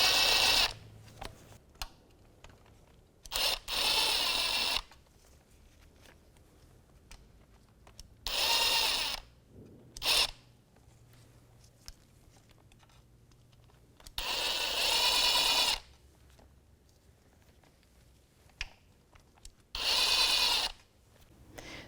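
Ratcheting of a socket wrench backing out oil pan bolts on a 2005-2009 Subaru Outback, in several separate bursts of rapid clicking with quiet pauses between them, close and fairly clear, with no talking.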